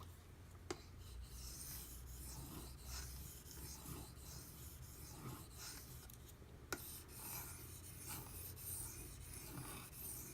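A Benchmade Griptilian knife with a CPM-M4 blade is stroked very lightly across a Naniwa Pro 3000 grit whetstone, making soft, steady, close rasping rubs with two faint ticks, no talking.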